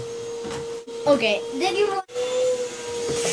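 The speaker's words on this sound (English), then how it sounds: "Oh my gosh, mom is vacuuming." A household vacuum cleaner hums steadily in the background, a continuous tonal drone broken by two brief dropouts, while a person talks over it.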